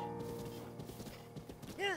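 Horse hooves clip-clopping at a riding pace in the video game The Legend of Zelda: Breath of the Wild, rhythmic and fairly quiet under a man's speech, ending in a short whinny.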